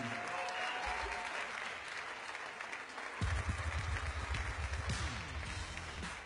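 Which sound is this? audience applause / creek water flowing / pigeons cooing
audience applause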